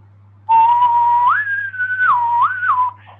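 A person whistles a single clear, close melodic phrase, sliding up, holding, dipping and rising again for about two and a half seconds, alone over a faint low hum.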